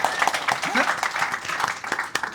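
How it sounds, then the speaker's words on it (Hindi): An audience at a naturopathy health talk applauds in a dense, continuous patter of many hands. The applause stays fairly loud throughout, with a few sharper individual claps standing out. "इसीलिए ताली बनती है।"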